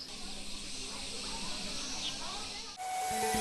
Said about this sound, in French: Aux commandes d'un train à vapeur.